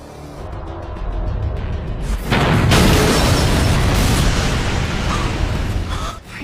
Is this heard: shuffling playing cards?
no